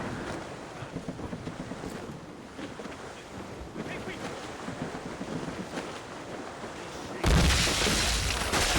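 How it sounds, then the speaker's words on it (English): A rough squall at sea in the sailing game Assassin's Creed Rogue: a steady roar of wind and waves that swells into a louder, harsher gust near the end. "It's quite a rough squall, Captain."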